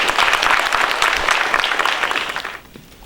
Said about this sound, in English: Let's give both these gentlemen a round of applause.